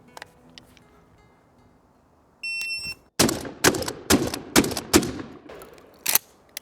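A short beep sounds, then a rapid series of loud, sharp pump-action shotgun shots at paper targets rings out in quick succession, with a final crack after a brief pause.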